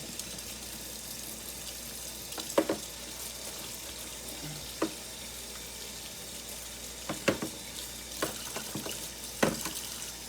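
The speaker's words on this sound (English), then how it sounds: "I'll just rinse this out." Water from a running kitchen tap splashes steadily as something is rinsed in the sink, with scattered clinks and knocks of dishes, fairly close and without talk.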